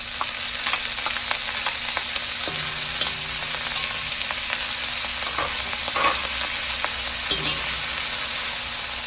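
Frozen vegetables frying in a hot pan for fried rice, a loud continuous hiss and crackle up close with scattered scraping stirs.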